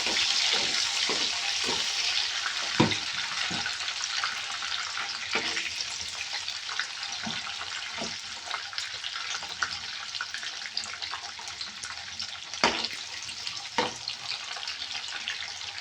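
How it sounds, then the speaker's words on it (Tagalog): Capsicum frying in a pan, a continuous loud sizzle with occasional stirring knocks and scrapes throughout. "So now I'll put the capsicum, then I will fry little bit."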